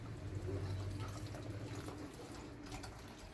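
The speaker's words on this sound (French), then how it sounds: "Et je vais mettre un peu d'eau, bien sûr, on ne va pas trop en mettre." Water poured into veal cannelloni meat filling, a soft steady trickling and splashing that runs briefly and faintly, close by.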